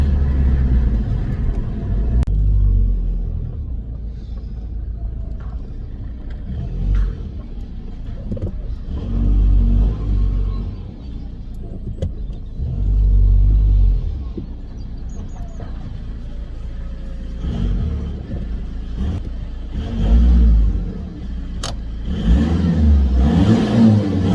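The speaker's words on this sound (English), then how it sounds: "swing it around some bends in this. Lovely power delivery so far." A MK5 Golf 2.0 TDI diesel car is driven through bends, heard from inside. Its engine repeatedly rumbles and revs up in surges, easing off between them, with road noise throughout and clunks near the end.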